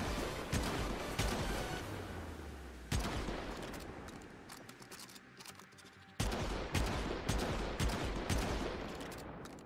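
Sniper rifles fire in the Warframe video game: loud, punchy shots repeat in quick bursts, each with a booming tail, with a brief lull in the middle before the firing resumes.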